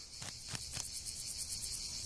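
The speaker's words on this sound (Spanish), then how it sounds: "Enredada en la tela de araña, la cigarra se resiste" A cicada tangled in a spider web gives three quick buzzing bursts against a constant high insect drone, faint and outdoors, with no voices.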